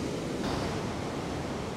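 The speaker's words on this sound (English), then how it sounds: "The waves are just pummeling down there." Ocean waves pound the shore below a high lookout in Tasmania, a dense, steady roar of surf that fills the short stretch without a break.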